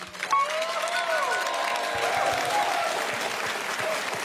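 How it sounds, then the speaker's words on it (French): Sustained audience applause after a live piano-and-voice concert performance, dense and even clapping from a large crowd that holds steady throughout with a few faint cheers on top. "Ça s'applaudit s'il vous plaît"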